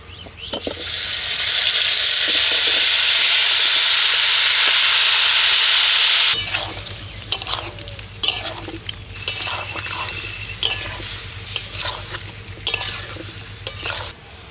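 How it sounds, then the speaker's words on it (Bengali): Marinated young jackfruit hits hot mustard oil seasoned with whole garam masala, cumin and bay leaf in a wok, a loud hissing sizzle for several seconds, then scraping and clinking stirring strokes over a quieter fry. "এবার মাখিয়ে রাখা ইঁচড়টা দিয়ে দিচ্ছি"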